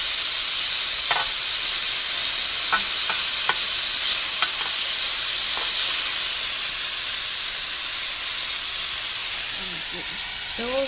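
Fajita meat sizzles steadily and loudly in a cast iron pan, a dense continuous hiss broken by occasional scraping stirs, close by with no talk.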